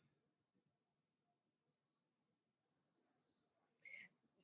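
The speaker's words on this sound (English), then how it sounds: "What you guys are hearing is the cicadas right now" Cicadas drone in a steady high-pitched buzz throughout, faint and distant, swelling slightly near the end with a second brief buzzing call.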